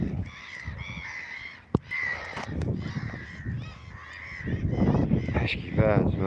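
Several birds call out by the water with harsh, honking caws, a loose run of repeated cries that grows busier toward the end, over steady background noise and a sharp knock partway through.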